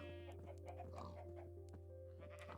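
Sheep bleat in a blocky sandbox video game, sounding as several short, wavering calls that overlap across a few seconds above a steady low background hum. The calls are moderately close and quiet.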